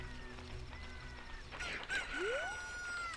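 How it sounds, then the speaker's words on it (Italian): Rooster crowing at dawn in The Legend of Zelda: Ocarina of Time, a clear drawn-out cock-a-doodle-doo rising over soft game music, with no talk. "Aspettiamo il canto del gallo."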